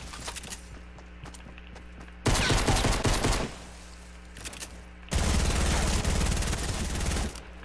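A minigun in a shooting game fires two long, loud, roaring bursts, each lasting one to two seconds, separated by quieter stretches of scattered game noise and footsteps.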